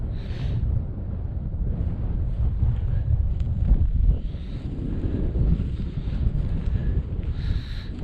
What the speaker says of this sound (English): the wind's coming from this direction